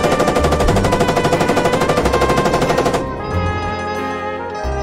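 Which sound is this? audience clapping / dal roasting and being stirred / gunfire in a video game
gunfire in a video game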